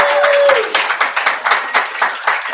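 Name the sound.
audience applause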